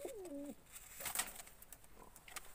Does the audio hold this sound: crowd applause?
no